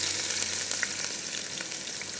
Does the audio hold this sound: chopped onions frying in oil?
yes